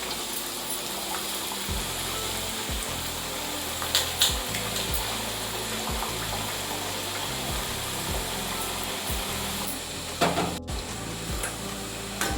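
Pappu chekkalu, lentil crackers, fry in hot oil with a continuous close bubbling sizzle, broken by occasional louder crackles and stirring clatter.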